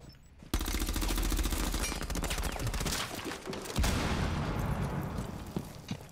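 Sustained automatic gunfire in a multiplayer tactical shooter on the Bank map, a loud rattling burst that starts abruptly and runs almost without pause, with a second volley kicking in near the end.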